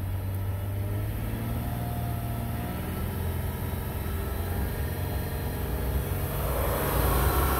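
A 2015 Lexus GS350 AWD F Sport engine held at a raised, even rev of about 3,000 RPM, droning continuously with a slight rise near the end and no voices.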